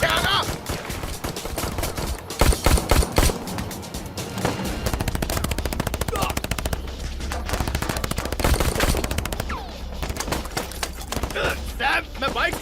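Rapid bursts of gunfire crackle in repeated volleys, loud and close, with shouting voices and a low rumble underneath.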